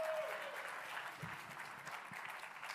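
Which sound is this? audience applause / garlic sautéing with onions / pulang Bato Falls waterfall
audience applause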